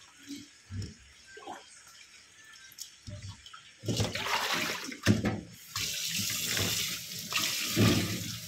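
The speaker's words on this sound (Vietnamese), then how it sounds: "Mình sẽ rửa thêm một lần nữa ha, là sạch nha mọi người." Food being washed under a running kitchen tap: water flows in short bursts, then runs more steadily and louder, splashing into a sink close by.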